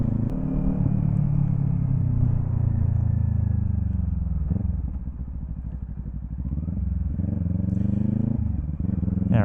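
A motorbike riding through traffic in Vietnam, a steady low engine drone with rumbling road noise around it, close and continuous, the engine note dipping briefly midway before it settles back in.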